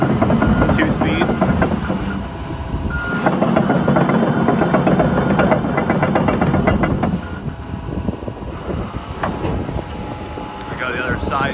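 A 2022 John Deere JD210G crawler excavator engine runs steadily close by, a loud diesel rumble with mechanical clatter that eases slightly toward the end.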